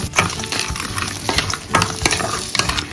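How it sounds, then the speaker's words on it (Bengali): Frozen broccoli, peas, carrot, capsicum and mushroom fry in a pan with a loud, close sizzle, broken by repeated clattering strokes of a spatula stirring throughout. "ব্রোকলি, কড়াইশুঁটি, গাজর, ক্যাপসিকাম, মাশরুম, ফ্রোজেনই দিয়ে দিচ্ছি, এর মধ্যেই ভেজে নেব।"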